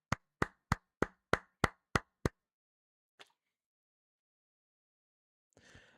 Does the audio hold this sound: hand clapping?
yes